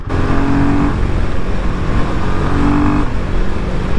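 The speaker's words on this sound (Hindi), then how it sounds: "अभी जैसे मैं एक्सेलरेट कर रहा हूँ इसको, तो बहुत ज़्यादा वाइब्रेट कर रही है।" A Royal Enfield Himalayan 450 motorcycle engine accelerating while being ridden, a loud, steady drone that rises in pitch twice, with no speech.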